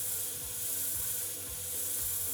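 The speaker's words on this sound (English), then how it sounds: "So let's get that sanded." A wooden box spinning on a woodturning lathe at about 800 RPM is sanded, giving a steady, soft abrasive rubbing hiss with faint rhythmic pulses over the low hum of the machine.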